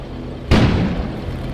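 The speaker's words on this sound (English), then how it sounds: "An explosion suddenly occurred outside." A single sudden explosion booms outside in the snowstorm of the video game Kona, hitting loud and then fading into a rumbling wash over a low steady background hum.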